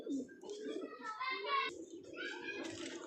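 Domestic pigeons, kept with their young, coo in soft, throaty rolling phrases close by, with light chirps mixed in and faint voices in the background.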